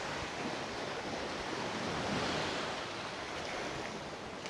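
Ocean waves wash into a small cove near Padang Padang, Bali, as a steady, broad surf roar with wind, continuous and fairly even in level, with no voices.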